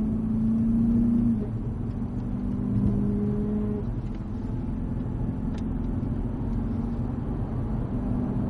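A Cadillac CTS-V accelerates on a race track, its engine a steady, loud low rumble that rises slightly in pitch and holds on under power, heard from close by with no talk.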